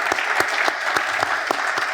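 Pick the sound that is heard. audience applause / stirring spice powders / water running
audience applause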